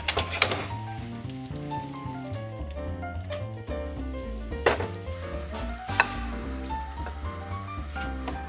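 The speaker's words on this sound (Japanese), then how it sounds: "この後ちょっと煮込むんで軽く肉の色が変わる程度に炒めればいい。" Meat stir-fries in a frying pan for a yukgaejang hot pot, making a steady sizzle with occasional stirring scrapes, set against tuneful background music.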